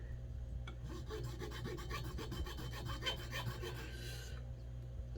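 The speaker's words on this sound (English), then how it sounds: "filing seems to warm it up, kind of prepare it for peening" Steady rasping strokes of a file on a straight razor blade being prepared for peening, a close, repeated scraping rhythm that continues without pause for several seconds.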